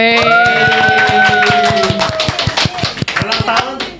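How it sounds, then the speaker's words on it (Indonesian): A studio audience claps for the Indonesian Solidarity Party's 11th birthday on a podcast, sharp uneven hand claps rising after a voice speaks over the opening seconds and continuing loudly to the end. "Tepuk tangan dulu dong"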